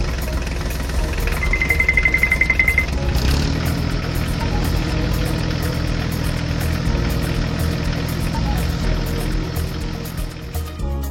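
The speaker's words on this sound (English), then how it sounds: "The forage harvester and tractor arrive at the cornfield." Forage harvester and tractor engines at a cornfield, a steady loud heavy diesel drone with a continuous low rumble that rises as machinery engages partway through, running throughout without speech.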